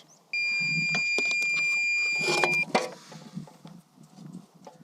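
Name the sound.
water level probe beeping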